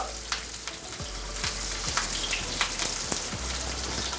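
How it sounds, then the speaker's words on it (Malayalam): Dry red chillies, curry leaves and green chillies sauté in oil for a traditional ginger curry, giving a steady, faint crackling hiss with scattered pops and no voices. "വറ്റൽമുളകും കരിവേപ്പിലയും പച്ചമുളകുമാണ് നമ്മൾ ചേർത്ത് കൊടുത്തത് അത് നന്നായിട്ടൊന്ന് വഴന്നു വരണം"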